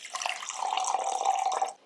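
Water poured into a sourdough starter, a short steady trickle into the jar lasting under two seconds, close and fairly quiet, with no talking.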